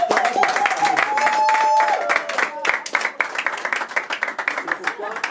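An audience at a dowry ceremony claps in a loose, uneven burst of applause that thins into scattered claps, with a voice speaking at the start.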